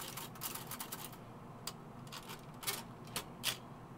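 An old typewriter is typed on in uneven bursts of sharp mechanical clacks, some keys louder than others, with a brief light ching of the carriage bell among them, close and fairly quiet in a room.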